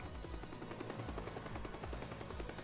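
Helicopter in the video game Teardown hovering and flying close by, a steady loud rotor chop with rhythmic low thumps and broadband engine wash throughout.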